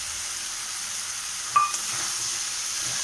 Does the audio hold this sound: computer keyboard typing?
no